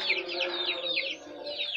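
Bangkok rooster chickens giving short repeated high calls and clucks, close and fairly quiet, with no talk.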